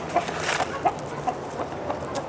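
Soft, scattered clucks from several chickens at a moderate distance, short calls spaced irregularly over a steady outdoor background.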